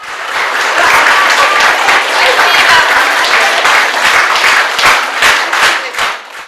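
Nurses give loud, sustained applause at a Nurses' Day ceremony to honour a colleague who won a contest. The dense, close clapping fills the whole stretch without pause.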